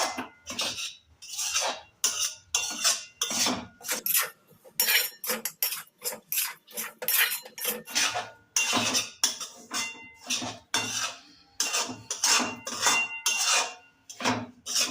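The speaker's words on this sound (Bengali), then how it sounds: "কালারটা চেঞ্জ হচ্ছে কন্টিনিউ নাড়বে" Grated coconut is stirred as it fries in a pan, with loud, repeated scraping and clinking of a metal spatula against the pan in quick, uneven strokes close up; no voices.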